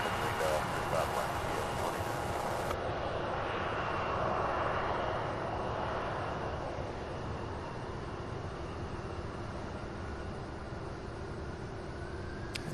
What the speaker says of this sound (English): That MD-11 spooling up